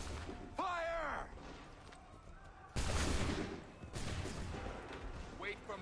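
Musket volleys fired by soldiers in Assassin's Creed 3 come as two loud, close booming blasts with rolling decay, mixed with game sounds and a shouted voice.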